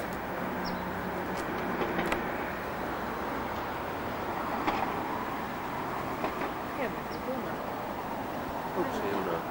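Road traffic passing nearby on a warm day, a steady broadband rumble that swells now and then, with faint bird chirps and a murmur of voices over it.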